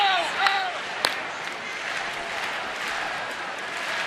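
A big fireworks-night baseball crowd of nearly 37,000 fans applauds with scattered cheers and a couple of sharp claps, the applause swelling then settling into a distant steady patter beneath a commentator's voice.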